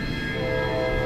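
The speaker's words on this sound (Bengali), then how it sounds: "ট্রেনটা যেন আস্তে আস্তে ছাড়ল।" A train slowly pulling out of a station sounds a brief, sustained horn-like tone over a low rumble, steady and unbroken.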